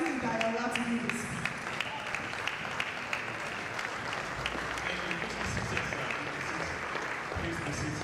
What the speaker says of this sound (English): Please, can we, with a round of applause and a standing ovation, welcome to the podium Dr. Saeed Ayala